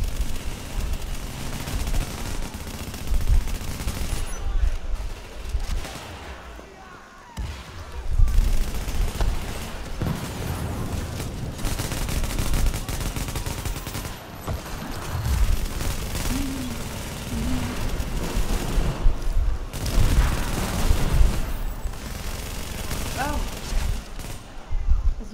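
Gunfire in the video game Tom Clancy's The Division, with repeated bursts of automatic fire and heavier booms in clusters across the clip, loud and close, with brief lulls and faint voices underneath.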